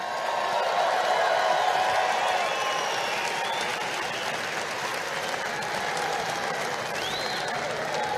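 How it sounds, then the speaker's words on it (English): Large crowd at a political rally in Cleveland, Ohio, applauding and cheering in a loud, continuous roar of clapping with scattered whoops, filling a big indoor space. "Let's give her another round of applause."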